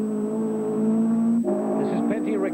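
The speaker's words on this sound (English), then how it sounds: "The car's a Group 2 Datsun 2-litre. It's a 160J." A Group 2 Datsun 160J 2-litre rally car with its engine held at a high, steady drone, then shifting and climbing again in pitch, loud and close.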